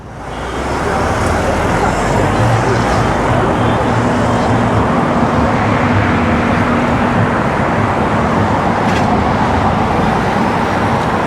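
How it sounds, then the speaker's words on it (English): Steady road traffic on a New York City street, heard from a bicycle: a continuous loud roar of car and bus engines and tires, with a low engine drone running throughout. "I gotta watch out for the cars ahead of me."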